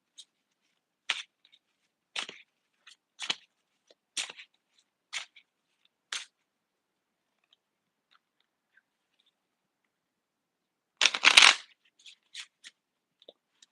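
An unusual oracle-style card deck is shuffled by hand: six short, evenly spaced flicks, a pause, then one longer riffling burst and a few light taps, close and quiet otherwise.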